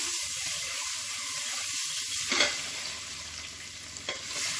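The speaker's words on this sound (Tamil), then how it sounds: "இப்போ இந்த முட்டையை வந்து இதில் சேர்த்துக்கலாம் இதை வந்து நான் லேசாக பரட்டி எடுத்துக்கலாம்" Boiled eggs are lightly fried in a pan, with a soft continuous sizzle and a few gentle scraping stirs from a spoon against the pan.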